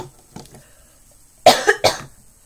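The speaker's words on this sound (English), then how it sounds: "I'm really sorry about all the coughing." A person coughs in two or three sharp, close bursts after a quieter stretch with faint earlier coughs, heard up close indoors.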